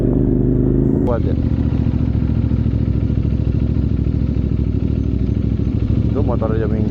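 A motorcycle engine runs loud and close on a road in eastern Indonesia, a steady mechanical drone with some clatter, while people talk over it.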